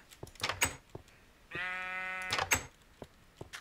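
A single sheep bleats in Minecraft, a sustained, buzzy, quavering cry lasting about a second, heard alone amid faint game clicks and thumps.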